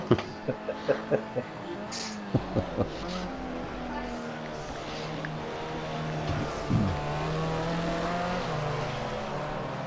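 A race car engine in a racing video game drones with a steady, layered tone, shifting in pitch as the car runs, after a quick series of short knocks at the start.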